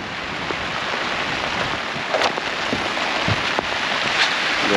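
Steady rain falling on a loft roof, a dense even hiss throughout with a few sharper clicks of drops and faint knocks.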